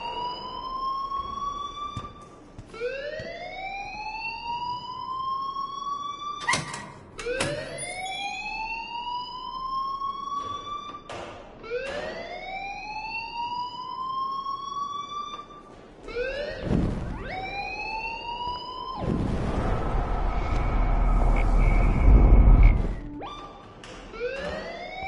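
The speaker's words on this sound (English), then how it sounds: "please turn off that alarm since that's your job." A rising-and-falling wailing alarm repeats in steady cycles in the video game Life is Strange, loud and continuous, with a burst of harsher noise near the end.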